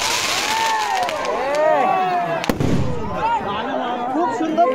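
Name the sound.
fireworks and firecrackers exploding at village festival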